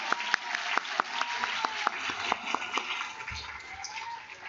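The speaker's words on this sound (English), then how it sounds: "Let us give a big round of applause to our delegates and their hard work over the past 3 days." A modest round of applause for student delegates at a model UN closing ceremony, sparse distinct claps rather than a dense roar, with a murmuring voice underneath and the clapping thinning toward the end.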